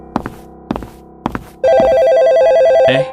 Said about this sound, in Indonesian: Ada telepon ternyata dari Yuta, si anak pemberani